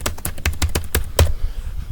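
Rapid, irregular keystrokes on a computer keyboard, close and clear, with a few heavier clacks such as a spacebar or enter press mixed in, and no talking.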